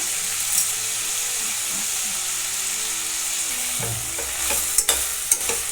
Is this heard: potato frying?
yes